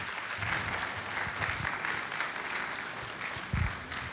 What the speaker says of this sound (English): Let's give him a round of applause as he comes to the stage.